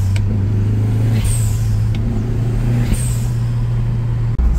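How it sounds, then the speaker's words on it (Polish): A BMW E36 with a turbocharged 1.8 M43B18 engine and a Pro Perfect blow-off valve, giving two sharp hisses about two seconds apart over a steady low engine drone, heard alone without talk. "On ma taki dźwięk mocno, mocno to syczenie jest słyszalne, tak?"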